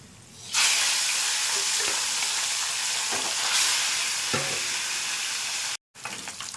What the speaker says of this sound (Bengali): মাছটা ভাজা হয়ে গেছে, তুলে দিচ্ছি এটাকে